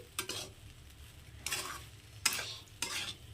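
Chicken egg fried rice with dark soy sauce stirred in a pan: four brief scraping strokes of a spatula over a faint, steady sizzle, spaced irregularly and heard up close.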